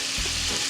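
Fuzzy melon (节瓜) frying slowly in a pan, a continuous close sizzle with a soft scraping stir, loud and steady over the whole short moment with no talk.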